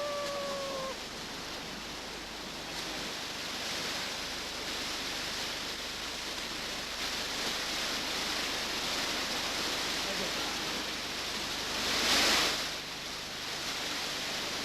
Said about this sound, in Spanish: El río está lleno de lugares como estos, remolinos, escollos imprevisibles.